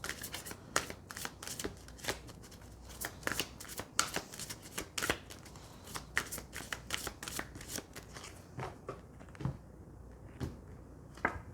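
Tarot cards being shuffled by hand, a quiet, close series of crisp riffling flicks and soft slaps repeating in irregular bursts throughout, with no voice.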